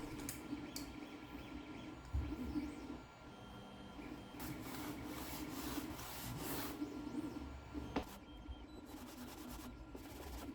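Continuous light scratchy rubbing of sanding an acrylic robot model part over a low steady hum, fairly quiet, with a few brief louder scrapes along the way.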